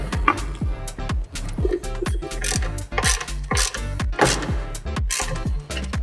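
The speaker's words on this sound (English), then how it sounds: "go back through with my tools, lock them down" Ratchet wrench clicking repeatedly as bolts on a Polaris Xpedition windshield bracket are tightened down, a steady run of close, loud pawl clicks in quick bursts with no talking.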